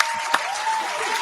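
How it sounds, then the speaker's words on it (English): A brief burst of applause, a steady wash of clapping lasting about a second with a single sharper clap standing out, fairly quiet and without talk over it. "you feel like giving him a round of applause?"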